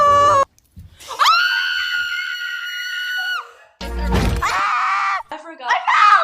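A person screams loudly in long sustained shrieks, two drawn-out high cries separated by a brief gap, very close and piercing, with other voices chattering around them.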